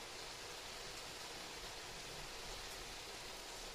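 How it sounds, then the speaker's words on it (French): Rain falls steadily during a thunderstorm, a faint, even hiss of drops with no breaks, heard from a distance with no voices over it. "Écoutez le bruit de la pluie"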